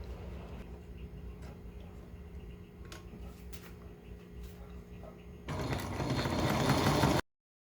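A sewing machine stitches along the top of a backpack-style bag, starting up about two-thirds of the way through and running loud and steady to the end, with faint mechanical ticks and background hum before it.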